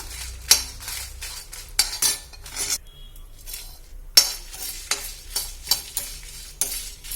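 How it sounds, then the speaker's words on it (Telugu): Lentils and dried red chillies fry in a pan for a curry, with repeated metal clinks and scrapes of a spoon stirring against the pan over a soft, steady sizzle, the strikes coming in irregular bursts close by. "ఈ పప్పు గింజలు అయితే కొంచెం వేగిన తర్వాత ఎండుమిర్చి అయితే వేయించుకుందాము"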